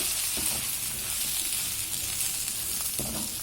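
Chilli powder and turmeric sautéing in a pan for a sundakkai theeyal make a constant, dense sizzle with a couple of soft stirring scrapes underneath.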